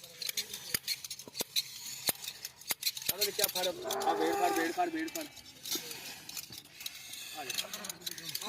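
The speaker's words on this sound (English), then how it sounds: "all guys busy giving a beauty haircut to the sheep" Hand shears snip through wool while sheep are sheared in the Cholistan Desert, Pakistan, with quick repeated clicks and cuts amid bleating and people talking nearby.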